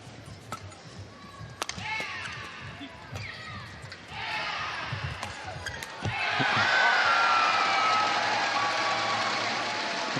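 Crowd at a badminton doubles quarterfinal at the Dubai Superseries Finals, with shuttle hits and squeaks giving way to a loud swelling roar of cheering from supporters that builds and holds at full volume.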